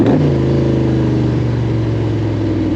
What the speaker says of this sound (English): blip throttle downshifts are simple